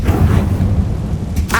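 A Confringo blasting spell cast in the video game Hogwarts Legacy gives a loud, booming burst with a deep rumbling low end, followed by a brief crackling flare near the end.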